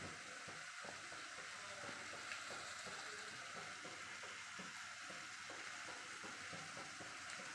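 Mustard seeds sputter in hot oil while tempering for a coconut-based tomato curry, a dense steady sizzle with fine crackling pops throughout, heard close and continuous without talk.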